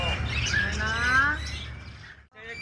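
A caged myna in a bird shop at Lalukhet Birds Market calls with a run of bright, warbling chirps and whistles at close range, steady for about two seconds before breaking off, then a brief call resumes, with a murmur of background noise beneath.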